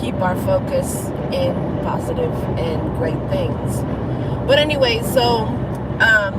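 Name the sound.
car interior background road noise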